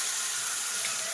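Tamarind water pours into a hot frying pan of red chili mixture, producing a steady bright rushing, hissing stream of liquid, close and without speech.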